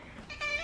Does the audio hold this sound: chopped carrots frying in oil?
no